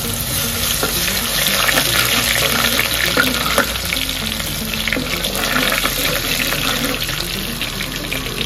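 Water is poured into a cooker to wash lentils (pappu) for a mango dal, making a steady, close rush of splashing and sloshing that runs without a break, with no voices.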